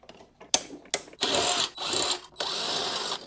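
A power tool with a 14mm socket backs out the blade bolts on an Ariens Razor mower. Two short bursts come first, then three longer whirring runs, each loud and close, with no voices.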